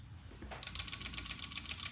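The locked arm of a Bridge City CS-3 center marking tool rattles with remaining play, producing a fast, close metallic clicking that runs steadily for about a second and a half.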